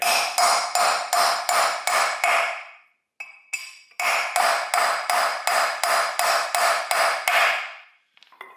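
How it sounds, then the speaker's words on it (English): Sharp metallic hammer blows on an old socket drive a wheel stud into a Ford Fiesta Mk6 drum brake, ringing in a steady rhythm, a run of about six, a brief pause, then around ten more, loud and close. "just hammer it straight in"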